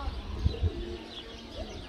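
Birds call at a zoo bird park in Nicosia, Cyprus, with a couple of brief, faint coos and chirps rising over low ambient outdoor noise.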